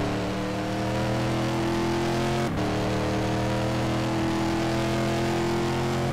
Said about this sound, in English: Looks like it's a Porsche.